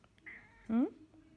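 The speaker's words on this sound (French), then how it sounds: "il miaule tellement fort qu'on l'entend à travers la porte" A cat meows loudly behind a closed door at home, one clear drawn-out meow after a faint higher cry, close and distinct over a quiet room.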